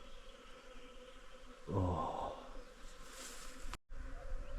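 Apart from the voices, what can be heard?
bees buzzing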